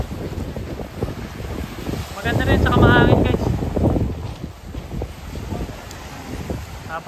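Wind gusts across a beach front in Boracay, a steady rumbling roar on the microphone that swells in the middle, with a voice speaking briefly under it.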